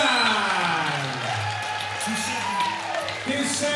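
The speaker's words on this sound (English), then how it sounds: "Give Sammy Warren a big round of applause, please" Crowd applause and cheering at a DFC flyweight title fight after the bout, a steady wash of clapping with scattered whoops under an announcer's voice.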